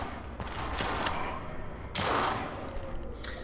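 A scoped rifle shot in the video game Fallen Earth lands a headshot amid loud, close gunfire bursts over a steady background rumble.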